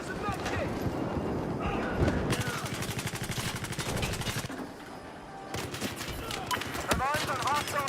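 Rapid gunfire rattles in a military shooter game, dense bursts of automatic shots hammering nearby in long strings, briefly thinning before resuming, with talk mixed in.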